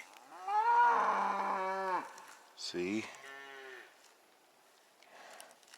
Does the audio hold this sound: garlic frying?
no